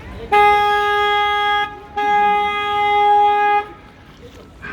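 Two long, loud blasts of a boat horn with a steady tone, close by, separated by a short pause, then quiet background, on the River Walk in San Antonio, Texas.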